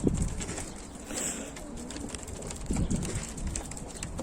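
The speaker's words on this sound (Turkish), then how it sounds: "Dönek güvercinlerimiz olsun, kelebek güvercinlerimiz olsun, dolapçı güvercinimiz olsun." Pigeons coo softly in low, rolling calls, a few close by, with light rustling and faint background noise.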